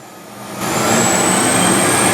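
A Gold Vault fume and particle extractor with a variable-speed 1 horsepower motor spins up from a low idle into a steady, loud whirring roar with a faint high whine, close by.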